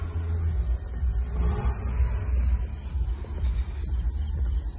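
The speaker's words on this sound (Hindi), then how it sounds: "एक बार आप लोगों को एग्जॉस्ट का साउंड भी सुनाऊंगा।" A Porsche, registered in Ahmedabad, gives off a steady low engine and exhaust rumble from close by, continuous and fairly loud for the whole stretch with no talking over it.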